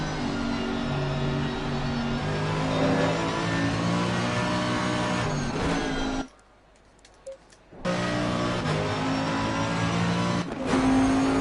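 A GT3 race car engine in a racing video game revs hard around Laguna Seca, loud and continuous with rising pitch sweeps through the gears, then cuts out briefly before roaring back.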